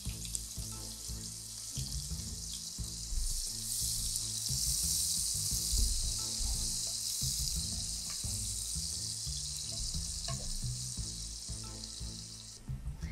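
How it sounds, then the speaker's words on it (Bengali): Chopped onions frying in hot oil, a continuous bright sizzle lasting throughout with stirring clatter underneath, fairly close and steady. "এ তেলে পেঁয়াজটা দিয়ে দিচ্ছি, এখানে এক বাটি পেঁয়াজ নিয়েছি, পেঁয়াজ কুচিটা দিয়ে দিচ্ছি"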